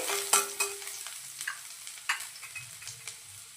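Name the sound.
frying finely chopped garlic and ginger in a pan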